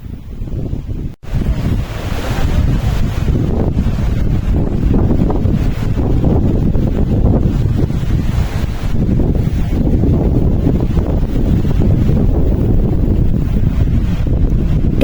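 Strong gusting wind on Mount Merbabu roars loudly and continuously into the microphone, buffeting it in a dense rumble for the whole stretch, with no voices.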